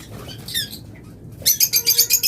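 Caged pet birds, including lovebirds, budgerigars and finches, chirp up close in a breeding setup, with brief scattered tweets and then a rapid, loud series of repeated shrill calls.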